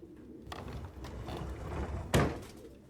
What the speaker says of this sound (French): Il y a combien de pigeons?